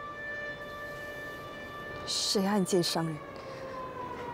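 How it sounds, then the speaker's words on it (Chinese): An air raid siren holds a steady, sustained tone throughout, with a voice briefly speaking over it midway. "该躲警报了吧？"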